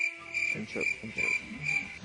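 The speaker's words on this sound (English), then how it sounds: "And the crickets. Chirp." Steady cricket chirping, a high repeating trill pulsing evenly over about two seconds, used as a comic silence cue, with low murmur beneath.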